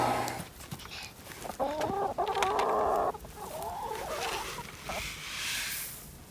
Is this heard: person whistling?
no